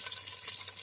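Onion tipped into a hot frying pan with ginger and green chilli for a Tulu-style fish curry, giving a steady close sizzle with faint stirring scrapes throughout.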